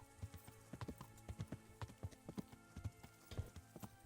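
Horse hooves in the game Kingdom Come: Deliverance, a steady rhythmic clip-clop of a trotting horse, fairly quiet and with no talk over it.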